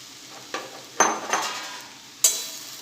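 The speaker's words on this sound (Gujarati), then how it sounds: "હવે આપણે જે બ્રેડને કટ કરીને રાખેલી એ એડ કરી દઈશું।" Cut bread pieces added to a pan of Schezwan-sauced mixture and stirred, with several sharp utensil scrapes and clinks over a quiet sizzle.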